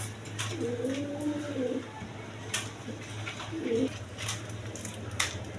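Large farm pigeons coo in two low, soft bursts, one long and one brief, over a steady hum and scattered faint clicks.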